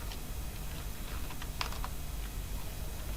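Code being typed on a computer keyboard while building a React to-do app: a quick, uneven patter of close key clicks with a few sharper taps, no voices.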